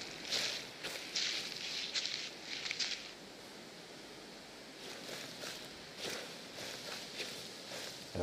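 Footsteps crunch in bursts through the eerie outdoor world of the video game Slender: The Arrival, several steady runs of steps over a soft windy background with gaps between them.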